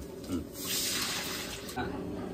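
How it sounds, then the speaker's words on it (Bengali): Water pours into a cooking pot while curry is made, a soft rushing splash that swells after the first half second and carries on steadily, with quiet talk faintly underneath. "এরপরে জলটা দিলাম"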